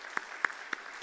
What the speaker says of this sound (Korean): 이 시간 한번 축하 또 격려의 박수 하겠습니다